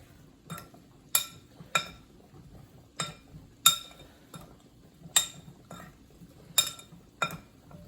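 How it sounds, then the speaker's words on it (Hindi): A spoon stirs potatoes with salt in a bowl, giving about a dozen sharp, clear clinks at a steady, unhurried rhythm, close and alone against quiet. "अभी हम इसको इसी में अच्छी तरह मिक्स करते हैं।"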